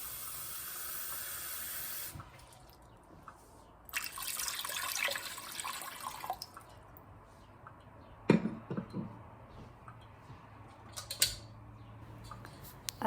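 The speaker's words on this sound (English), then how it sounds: "I'm going to use my pressure cooker. I'm adding 2 cups of water." Two cups of water are poured into a pressure cooker for steaming soybeans: two soft rushing bursts of pouring, with quiet metallic creaks and clanks around them, fairly faint and with no talking.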